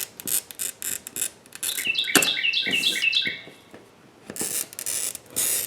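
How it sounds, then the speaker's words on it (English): Birds chirp outdoors in a quick burst of rapid tweets near the middle of the clip, surrounded by intermittent clicking and handling noises close by. "Ooh, got the birds here with us."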